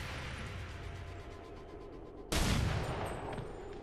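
A burst of gunfire in XCOM 2: War of the Chosen, a sudden loud blast over steady game background noise, then a sustained crackling volley that tails off.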